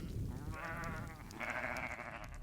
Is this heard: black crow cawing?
no